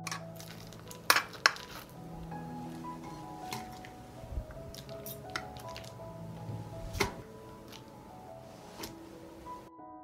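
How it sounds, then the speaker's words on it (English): Hot roasted peppers going into a deep pan, with a couple of sharp metallic clinks early and another near the end, plus soft squishy thuds and light pan rattles throughout. "I put the hot peppers in a deep pan."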